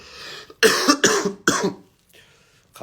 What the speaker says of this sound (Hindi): खांसी भी हो गया यार बहुत।